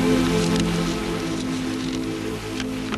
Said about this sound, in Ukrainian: До того ще й дощ іде.